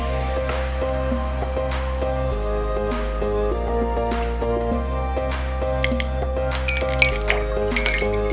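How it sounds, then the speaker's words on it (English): A cocktail being stirred in a martini glass, with repeated light clinks and taps of glass and utensil ringing out every second or so over a steady low background hum, without any voices. "let them stir up the beverage themselves."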